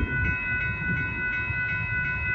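A northbound Amtrak Texas Eagle passenger train approaches at Dittmar Road in Austin, Texas, rolling steadily with a rhythmic low clatter and a sustained tonal hum, moderately loud and without any voices.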